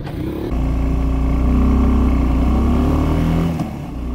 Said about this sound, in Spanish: la Suzuki Gixxer SF250 la llevaremos hasta 5000 revoluciones por minuto